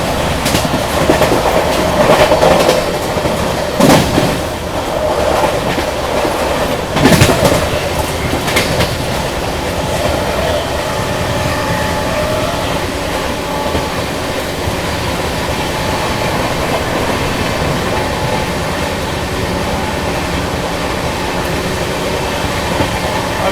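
A superfast express on the LTT Mumbai–Banaras route runs past Narsinghpur railway station with a loud, continuous rolling rumble, clattering wheel beats and a few sharp knocks early on.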